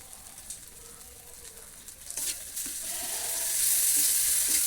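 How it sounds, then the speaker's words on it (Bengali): Ginger and garlic paste sizzling and frying in a pan as it is stirred, a faint crackle that grows into a louder, bright hiss with occasional scraping stirs. "একটু নেড়ে চেড়ে নেবেন যাতে পুড়ে না যায়।"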